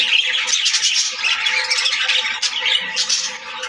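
A newly paired male and female budgerigar chatter continuously, a dense stream of squawks and warbles close up, with no talk.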